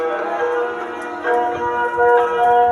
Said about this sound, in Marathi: आज काय सात धातूंनी मिळून ही घंटा बनवली आहे